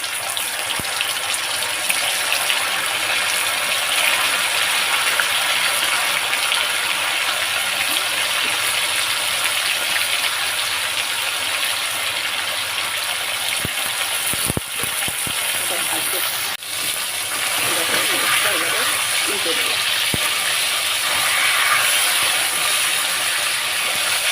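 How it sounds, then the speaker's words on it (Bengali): Lote fish, also called Bombay duck, sizzling in hot oil in a home kitchen, a loud, continuous hissing crackle that carries on for over twenty seconds with a few brief clinks partway through. "এবারে এই মাছগুলো আস্তে আস্তে তেলের মধ্যে ছেড়ে দেবো।"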